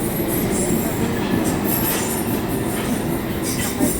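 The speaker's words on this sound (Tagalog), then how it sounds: "Sakay tayo na train." A train in the UK rides along the rails, a steady, loud rumble with rattling carriages and faint wheel squeal throughout, close by and uninterrupted.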